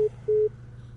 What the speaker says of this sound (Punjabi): ਫੋਨ ਕੱਟਿਆ ਗਿਆ